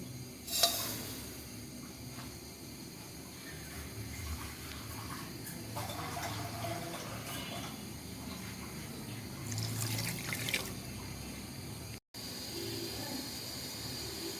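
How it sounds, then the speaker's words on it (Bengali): Sugar syrup for zarda cooks in a pot on a stove, giving a steady low bubbling, simmering wash with occasional brief stirring clinks and scrapes, close and moderately quiet, with no voices. "জর্দা তৈরি করার জন্য প্রথমে আমি চিনির শিরা তৈরি করে নিচ্ছি"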